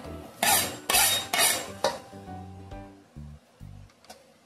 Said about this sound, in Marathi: यामध्ये मिक्स केलेले मसाले घालू आणि हे मिक्स करून घेऊ